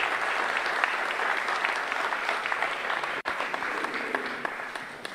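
Sustained audience applause fills the room after a mayor's speech at a highway section inspection event in Génova, Quetzaltenango, Guatemala, steady and dense throughout with a brief dip near the end.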